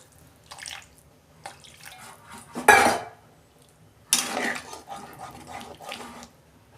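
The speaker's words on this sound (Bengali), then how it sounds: "সয়াবিন কষানো হয়ে গেছে, আমি জল দিয়ে দিচ্ছি, পরিমাণ মতো জল দিচ্ছি।" Water is poured into a pan of cooking soybean curry, heard as a couple of short splashing bursts among clinks of a utensil against metal cookware.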